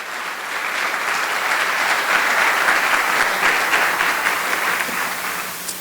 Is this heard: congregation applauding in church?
yes